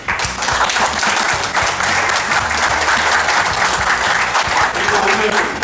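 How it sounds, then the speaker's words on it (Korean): Loud, dense clapping from about sixty attendees thanking everyone for joining a productivity session on DEVONthink and Scrivener, continuous and close, with some low voices murmuring underneath. "이렇게 뜻깊은 행사에 참여해 주신 여러분들께 큰 박수를."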